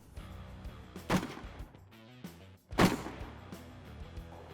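Army rifles fire at an outdoor shooting range, two sharp reports about a second and a half apart, each trailing into a short echoing decay, with quieter handling noises between.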